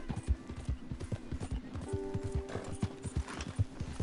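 Horse hooves clip-clopping in the video game Red Dead Redemption 2, a steady rhythmic trot of close, crisp hoof strikes with a brief whinny partway through.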